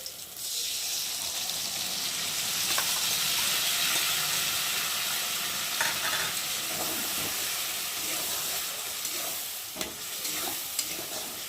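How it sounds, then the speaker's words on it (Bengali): Pointed gourd frying in a pan as mustard and poppy seed paste goes in, giving a steady close sizzle with bursts of stirring and scraping throughout, with no talk. "আর এখন আমি দিয়ে দেবো সর্ষে আর পোস্ত বাটা।"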